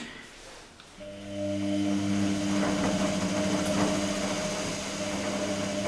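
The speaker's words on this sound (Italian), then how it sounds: "Inizia a farsi un po' sentire anche il motore a spazzole." The brushed motor of an Electrolux-Rex RWP 1273 washing machine spins up during a 60° wash. It gives a steady whine with motor hum over a faint drum rumble, fairly quiet and close, with no talk.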